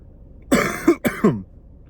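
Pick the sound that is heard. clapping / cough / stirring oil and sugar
cough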